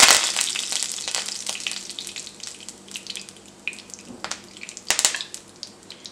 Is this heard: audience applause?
no